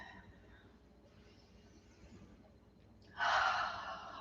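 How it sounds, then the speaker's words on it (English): Deep breaths in and out during a qigong session, soft airy inhales building gradually, then a louder, fuller exhale near the end, close and without talk. "Big breath in and let it out."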